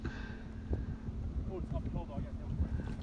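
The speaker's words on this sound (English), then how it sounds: "Think the wind's gusting a little bit." Wind gusts buffet the microphone outdoors on a golf course green with a low rumbling roar, while people talk quietly in the background.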